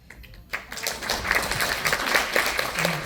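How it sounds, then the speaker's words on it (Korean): An audience at a book talk bursts into applause after a brief quiet start, dense clapping swelling and holding steady to the end. "말 한마디 끝날 때마다 박수를 치도록 하겠습니다"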